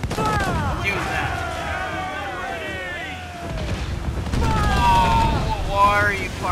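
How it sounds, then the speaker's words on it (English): Enemy sailing ship cannons boom in deep, rumbling volleys during an Assassin's Creed IV Black Flag naval battle, heard under someone talking. "why are you firing your cannons?"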